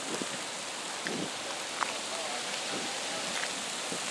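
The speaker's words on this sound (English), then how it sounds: "Here come the rain." Rain comes down outdoors in Newark, New Jersey, a steady hiss of drops with scattered louder taps on nearby surfaces, moderately close and with no speech.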